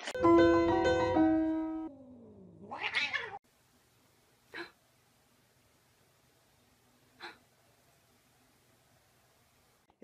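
A cat meows loudly and clearly at first, then lets out a rising, drawn-out yowl. After that, only a couple of brief, faint sounds break the quiet.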